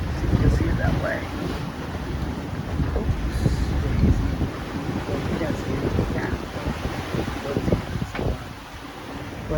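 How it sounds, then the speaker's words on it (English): A sailboat under motor and sail pushes through waves on a passage between Eleuthera and the Exumas, with steady buffeting wind on the microphone, sloshing water and a low engine rumble continuing at near-constant loudness for nearly ten seconds. "But we're motoring, we're sailing."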